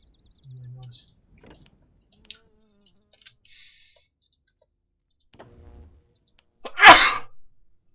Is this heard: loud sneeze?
yes